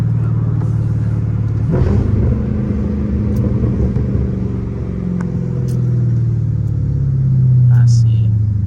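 A Dodge Charger SRT 392 engine rumbles loudly up close, idling and revving, with scattered crackles from the exhaust; a voice talks briefly over it.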